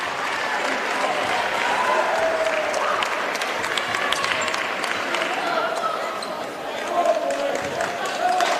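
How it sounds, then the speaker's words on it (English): Crowd noise at a junior basketball game in a gym, a steady roar of cheering and clapping with squeaks and ball bounces mixed in, sustained and fairly loud throughout, with voices talking over it. "Listen to that crowd."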